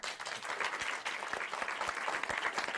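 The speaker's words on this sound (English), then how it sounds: "where's my applause?" Applause sound effect, a dense continuous wash of many clapping hands, moderately loud and steady for its short length.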